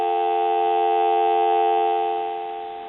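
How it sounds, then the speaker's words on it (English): A steady electronic telephone dial tone from a Western Electric 350W wood wall telephone hums continuously for a few seconds, a clean sustained tone that fades slightly toward the end. "we can push the flash button, give you some dial tone"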